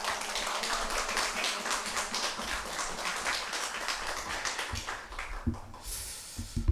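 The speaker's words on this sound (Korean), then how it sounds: "우리 큰 박수로 한번 환영하겠습니다" A church congregation claps to welcome a visiting missionary before a Sunday sermon, a busy, uneven patter of many hands that thins toward the end, with a few louder close claps.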